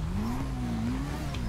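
A Hakuchu motorcycle in GTA Online revs steadily, its engine note rising and falling slightly while holding a continuous drone throughout, loud and close with no break.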